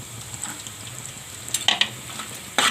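Cashews and raisins frying in a pan with peanuts for raw banana poha, giving a soft, steady sizzle, with a few sharp scrapes of a stirring spoon near the end.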